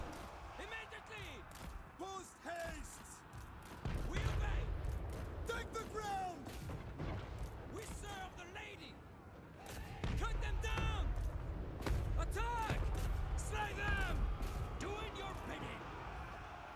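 Cannon fire in the video game Total War Warhammer 3 sounds as deep, booming volleys, with two big bursts rolling into sustained battle rumble beneath talking over the fight.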